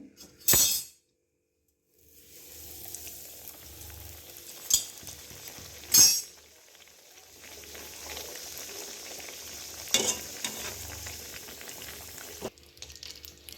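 A keema paratha fries in hot oil on a stove, with sharp bursts of sizzling and a few clinks of a utensil, then a quieter, steady crackle of frying between them.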